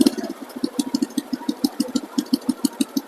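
A Honda Supra 125 motorcycle idling through an aftermarket exhaust, a close, even, low putt-putt pulsing at a quick steady beat with a light rattle over it and no speech.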